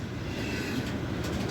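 A Norfolk Southern freight train rolls past in a steady, continuous rumble of wheels and cars, close and moderately loud, with no talking over it.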